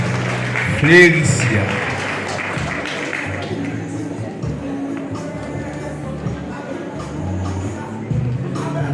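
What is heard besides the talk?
audience applauding at a ceremony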